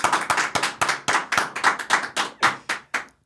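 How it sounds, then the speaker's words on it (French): Hands clap in a brisk, even rhythm, about a dozen sharp close claps spread over a few seconds, sounding like one or a few people rather than a large crowd. "Je demande un tonnerre d'applaudissements pour mon frérot Tom Fragrance"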